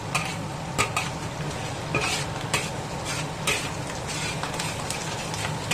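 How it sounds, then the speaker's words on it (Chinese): Garlic and chili stir-fried in a wok over a lowered flame: a steady close sizzle runs throughout, punctuated by sharp scraping and clinking strokes of a spatula against the metal pan. "放到锅里面，和蒜米、辣椒一起炒，爆香。"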